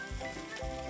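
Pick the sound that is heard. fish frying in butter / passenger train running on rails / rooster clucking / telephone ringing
fish frying in butter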